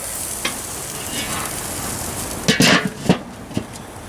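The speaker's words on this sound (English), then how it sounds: "Here it's sizzling, it's already starting to cook" Turkey sizzles on a grill with a steady crackling hiss, punctuated by a few louder scraping clatters as it is moved.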